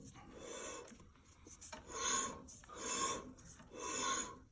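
Light rubbing drag from the clutch on a Toro Wheel Horse 520H mower, a close, faint rasping scrape that swells and fades in three or four regular passes, with no talk.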